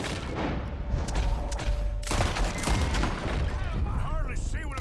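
Gunfire in the video game Red Dead Redemption 2, a dense fusillade of overlapping shots and booms with a sharp loud burst midway, continuing as rapid crackling under the clutter of a night firefight.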